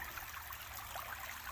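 Creek water flows steadily in a continuous close rush and trickle below a mountain, with no voices.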